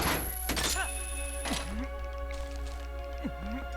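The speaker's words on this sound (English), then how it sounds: "If we look up with our claw shot, we can attach up here." Clawshot from the Zelda game Twilight Princess firing and latching on, heard as sharp metallic thunks and clanks with a swooping chain-like whir, two bursts over steady game background hum and tones.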